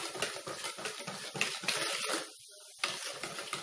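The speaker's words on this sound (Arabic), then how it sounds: "دابا غادي ندوزو نديرو الحليب، كاس الحليب اللي عندنا" Milk is poured steadily from a glass into cake batter, a continuous close liquid pour with a short pause before it resumes.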